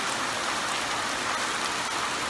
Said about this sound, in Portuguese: Tá chovendo forte, gente.